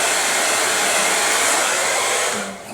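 A salon blow dryer on its cold setting drying hair, a steady loud airy roar that holds evenly, then drops off near the end as it is switched down.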